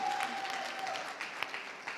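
Audience applause for an award-winning honor student at a poster competition final, fairly faint and distant, a soft spread of clapping with a few sharper claps near the end.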